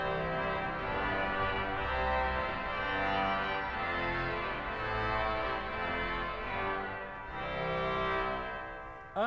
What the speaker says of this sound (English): And a trumpet, which is very strong.